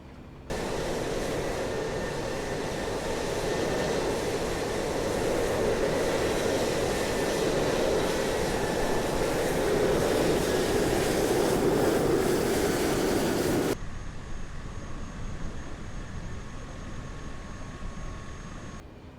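A Cessna Caravan turboprop taxis toward the runway, its engine a steady loud broadband roar that holds for about fourteen seconds before dropping abruptly to a quieter hum.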